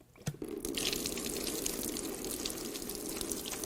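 Engine coolant from a Hyundai Genesis 4.6 V8 Tau engine pours steadily into a drain pan, a continuous close splashing trickle with a brief knock near the start.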